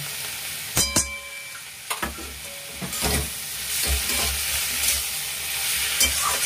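Prawn curry with mustard paste being stirred in a pan: close sizzling and frying with scraping stir strokes and occasional light clinks of the spoon against the pan.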